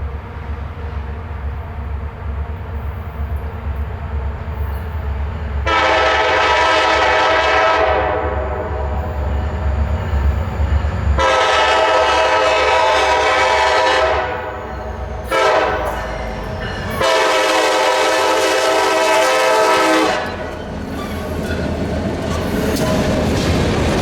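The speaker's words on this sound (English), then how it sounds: "watched in awe as the Alstom leader descended one of the many" Grey Alstom-liveried SD40-3 locomotive on the Aberdeen Carolina and Western descending a sandhill, a loud multi-tone air horn sounding in several long blasts over a continuous low rumble of the passing train.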